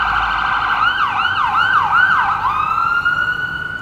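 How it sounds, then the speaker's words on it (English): A wailing emergency vehicle siren sweeps up and down several times, fairly loud and close on a Toronto street, then settles into a steady tone. "Apologies for the siren."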